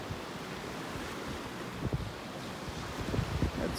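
Steady breezy wind and surf on a Florida beach at Delnor-Wiggins Pass State Park, a constant broad wash of waves with wind buffeting the microphone and a few low thumps.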